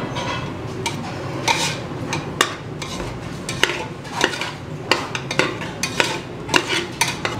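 A spoon stirs a diet salad dusted with pepper powder and chaat masala in a bowl, making steady close scraping and clinking with rhythmic taps against the bowl's sides.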